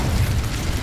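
Incendio fire spell from Hogwarts Legacy, a brief, heavy rumbling whoosh with a deep low-end roar lasting under a second.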